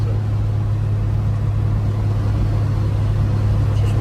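A Mopar Slant 6 cruiser car rolls along at a steady, light cruise, its low engine drone and road rumble continuous and close throughout, with no talking.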